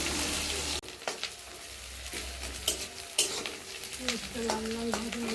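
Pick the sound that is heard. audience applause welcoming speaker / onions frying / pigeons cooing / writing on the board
onions frying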